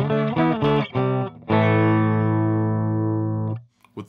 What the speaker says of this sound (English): let's start with the clean on my guitar, just so you get familiar with what the amp sounds like